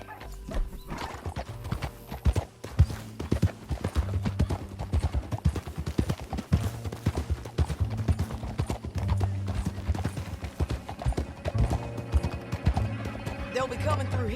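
A horse in Red Dead Redemption 2 gallops with rapid, loud clip-clopping hoofbeats that keep going throughout, and a whinny breaks through partway along.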